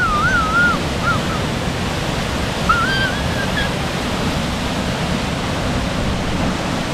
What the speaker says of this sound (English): What a great little waterfall.